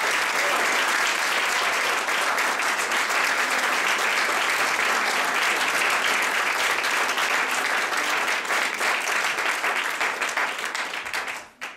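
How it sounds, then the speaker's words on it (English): Sustained, enthusiastic applause from a large crowd at a dinner fills the whole stretch, then tapers off abruptly at the end. "can we have one more round of applause for all of the people that made that dinner happen?"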